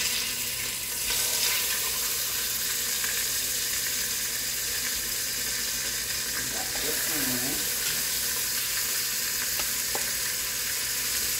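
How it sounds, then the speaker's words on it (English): Oxtail pieces for a braised stew sear in a hot pan, a steady broadband sizzle running the whole time with a brief louder spatter near the middle as a piece goes in; no talking. "get ready to sear them. So let's drop this one in first."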